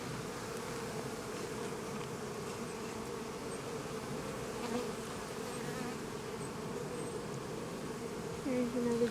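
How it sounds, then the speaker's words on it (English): Honey bees hum steadily at an open hive, a dense, continuous buzz around the colony that holds even throughout, with one insect droning a little closer near the end. "There's another bee drinking."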